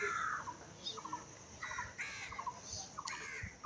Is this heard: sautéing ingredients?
no